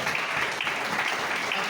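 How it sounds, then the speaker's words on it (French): A church congregation applauds during a sermon, a steady, dense wash of clapping from many hands throughout, with a faint voice underneath. "Il faut applaudir ça."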